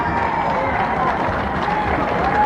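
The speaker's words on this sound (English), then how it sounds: "Give them a big round of applause, but I want you all to stand" A live audience at a Lonnie Lee show applauds the performers while standing, a dense, steady roar of clapping and crowd cheering that holds loud and unbroken throughout.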